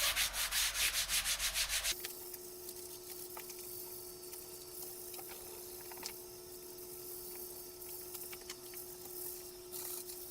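Grime is scrubbed off a part from a BMW 2002 under restoration, first a few seconds of loud, rhythmic strokes, then quieter steady rubbing with a faint continuous hum behind it and no talking.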